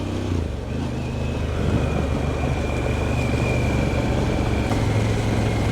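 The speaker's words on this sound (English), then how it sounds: "straight away we're going to hit the gravel." Car turning off Piha Road onto gravel Anawhata Road on Auckland's west coast, heard as a loud, steady rumble of engine and road noise without talking.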